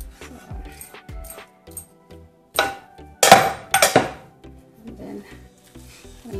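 A spoon stirring keema mince through oil in a cooking pot, giving scattered scraping knocks and clinks that build into a few louder rattling bursts, close up with no talk.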